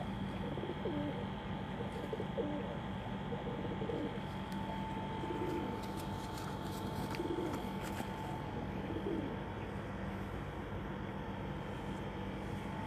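Pigeons coo softly and repeatedly in low, throaty bursts against a steady background hum, with a few faint chirps.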